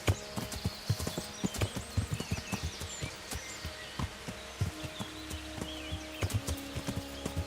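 Rhythmic clip-clop of horse hooves trotting on hard ground in the video game Kingdom Come: Deliverance, close and continuous, with faint chirping in the background and no speech.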